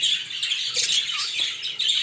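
Budgerigars squawk harshly and continuously while fighting, a dense, close chatter of shrill calls with no talk over it.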